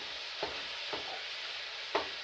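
Hamburger meat frying in a pan with a soft steady sizzle, broken by a few brief scraping stirs of a utensil, close and fairly quiet.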